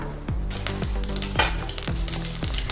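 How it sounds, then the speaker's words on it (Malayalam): Mustard seeds splutter and crackle in hot oil in a pan for okra mappas, a dense, continuous sizzle broken by repeated popping bursts. "കടുക് പൊട്ടി വരുമ്പോൾ"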